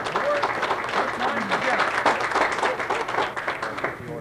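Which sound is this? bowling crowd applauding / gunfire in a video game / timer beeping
bowling crowd applauding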